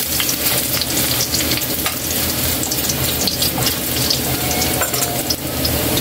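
Ginger frying in hot oil at the start of an octopus adobo, a loud, dense, continuous sizzle with stirring, close up and steady throughout with no voices.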